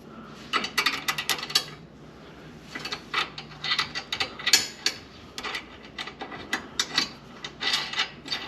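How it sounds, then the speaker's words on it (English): A hand ratchet clicks in quick irregular bursts while bolts are tightened on a truck bar bracket for a 2020 Ram 1500 Rebel, close up with short pauses between runs and no speech. "Then we'll just tighten everything down."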